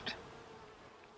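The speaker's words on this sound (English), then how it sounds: "There's so many bees, it's hard to see through them." Honey bees hum in a faint, steady drone around an open hive, with one bee briefly buzzing close by at the start.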